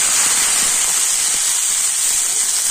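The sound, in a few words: chopped tomatoes added to hot oil with fried garlic and dried chili, sizzling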